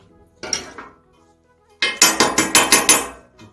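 A hammer strikes a freshly welded metal joint to test it: one ringing clang, a pause, then a quick run of about seven loud, close metallic blows.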